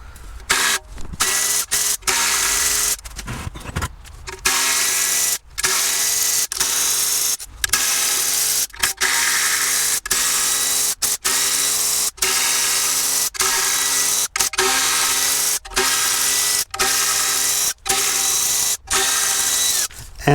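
A power tool removes the lower oil pan fasteners on a Mercedes M272 engine being disassembled after a connecting rod failure: loud close whirring bursts, repeatedly starting and stopping in a quick stuttering rhythm, alone without talk.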